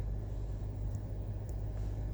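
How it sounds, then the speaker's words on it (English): A Honda CR-V engine idles with a steady, low rumble heard from inside the car, continuous and even throughout with no other sounds over it. "The car is running, the engine's running"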